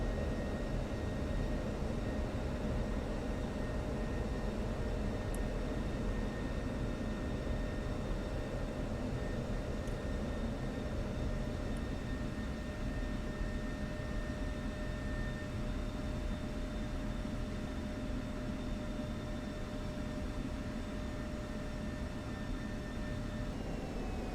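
In a flight simulator game, an aircraft on a tactical approach touches down and rolls out along the runway as a constant, dense engine and airframe roar with steady whining tones, unbroken and even for the whole stretch.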